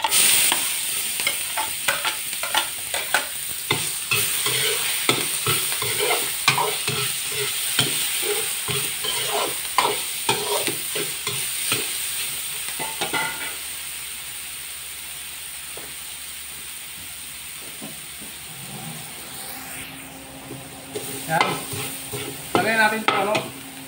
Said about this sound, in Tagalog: Lagyan natin itong bawang sa kasibuyas.